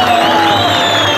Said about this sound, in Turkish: Çok kuvvetli bir alkış alalım kaymakamımıza.